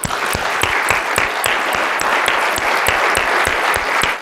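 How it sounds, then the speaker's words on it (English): A conference audience claps for the organizers at the opening session of a meeting, loud sustained applause with a few sharp individual claps standing out near the microphone throughout. "could we please give them a round of applause?"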